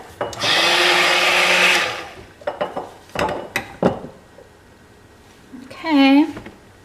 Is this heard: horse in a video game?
no